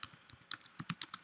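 Quick, light clicks of keys being typed on a computer keyboard come in an uneven burst of about a dozen taps, close and soft with no talking.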